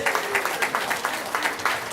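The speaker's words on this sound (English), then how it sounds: "Can we give them a round of applause, please?" Brief, moderately loud round of clapping from a crowd of guests at a 70th birthday celebration, irregular claps overlapping in a steady patter.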